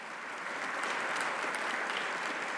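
An audience applauds at a political event honoring women in the military, a steady wash of clapping from a crowd in a hall that stays even and moderately distant.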